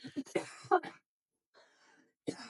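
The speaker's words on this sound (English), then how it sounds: "I got a cough." A few short, rough coughs close to the microphone, followed by a quiet pause and another brief cough at the end.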